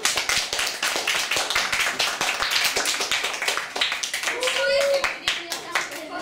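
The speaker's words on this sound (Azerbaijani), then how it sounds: "Uşaqlar, gəlin Amal'ın da həvəsləndirək, ona bir alqış verək" A group of schoolchildren clapping to encourage a classmate, a lively, slightly uneven run of claps with talk and children's voices over it, close and loud.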